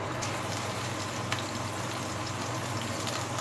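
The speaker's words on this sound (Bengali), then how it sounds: "ঝোলটা ফুটে উঠেছে, এই টাইমে আমি কোপ্তাগুলো দিয়ে দেবো" Curry gravy for jackfruit kofta bubbling in a pot, a steady close simmer with a continuous broadband hiss and soft popping bubbles, alone without voices.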